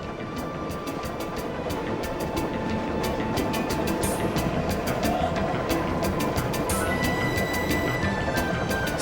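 The Canadian passenger train rolls along the track at around 60 miles per hour, a steady rumble with repeated sharp rail-joint clicks in irregular clusters, heard from on board.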